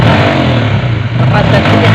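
Honda CBR150R motorcycle engine held at high revs, a steady loud mid-pitched drone with a low rumble that barely changes across two seconds, with no clear easing of the throttle.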